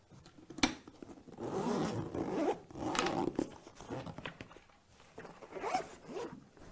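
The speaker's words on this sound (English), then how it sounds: "LifeBase 3 can be opened with a zipper for access to all necessary components." Zipper being pulled open along a LifeBase 3 emergency ventilator carrying bag, a series of rasping zips in several strokes, close and fairly loud with no talk.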